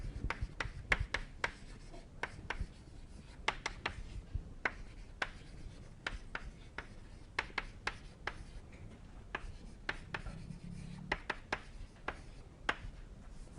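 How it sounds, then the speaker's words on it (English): Chalk or marker writing out fluid-dynamics equations on a lecture board, a long run of irregular taps and scratchy strokes with brief pauses, close and fairly quiet, no talking. "write it quickly again"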